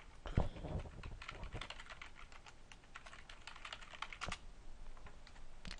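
A computer keyboard clatters as a password is typed, a quick run of soft, close keystrokes in an irregular rhythm with no talking.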